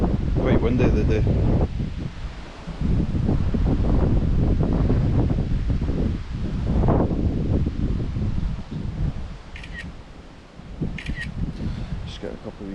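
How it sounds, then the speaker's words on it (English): Strong gusty wind buffets the microphone outdoors at an abandoned, fire-damaged family farmhouse, a loud low roar rising and easing throughout, with faint camera-like clicks near the end. "Quite windy the day."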